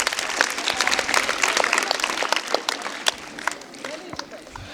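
An audience at a Shivaji Jayanti quiz event applauds, a dense burst of many hands clapping that swells and then thins over a few seconds, with voices mixed in.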